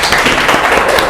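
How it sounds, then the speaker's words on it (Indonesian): Applause for a student named Rizka during a university teaching class, a dense, steady patter of many hands clapping together at close range for about a second. "tepuk tangan Mbak Rizka"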